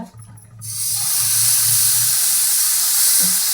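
Cucumber thalipeeth dough hits a lightly oiled hot pan with a loud, steady hiss of frying that starts sharply and continues unbroken. A low voice murmurs faintly underneath near the start.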